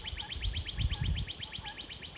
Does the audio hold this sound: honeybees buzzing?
no